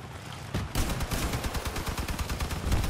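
Shotgun blasts from a combat vehicle in the game Crossout, a rapid run of sharp, loud shots repeating steadily over constant engine and battle noise, with no talk.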